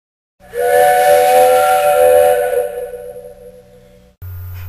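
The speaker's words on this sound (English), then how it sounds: "Just then, they heard a whistle." A steam train whistle blows loud and close in a single long, bright blast that trails off, followed by a low rumble.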